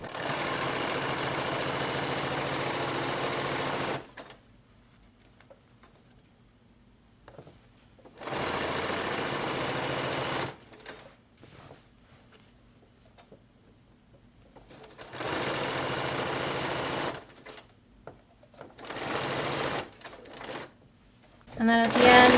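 A sewing machine back stitches a fitted sheet made from a flat sheet, with bursts of loud, steady motor whir separated by quiet pauses.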